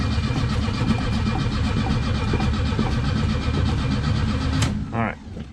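A 1984 Chevette cold-starting after sitting four years, the starter cranking the engine in a loud, fast, steady rhythm that stops abruptly near the end, followed by a brief squeal.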